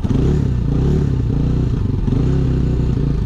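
A motorcycle engine running outdoors in falling snow, a loud continuous low rumble with clattering mechanical texture, steady throughout and close to the microphone, with no speech.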